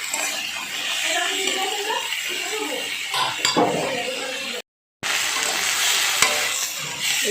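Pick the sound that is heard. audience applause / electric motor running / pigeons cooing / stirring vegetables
stirring vegetables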